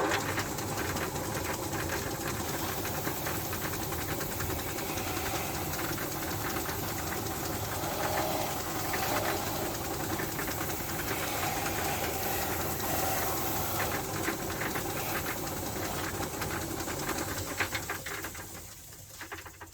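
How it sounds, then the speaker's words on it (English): A buffing machine runs on the dyed edge of a custom leather piece, a dense, loud and continuous motor whir with a rough grinding texture that stays steady for most of the stretch before fading near the end. "I've got this nice buffing machine here"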